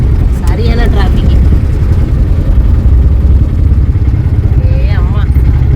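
Busy road traffic in Kerala after the Onam holiday, motorcycles and cars rumbling steadily up close with a couple of rising horn or engine whines, voices talking above the din.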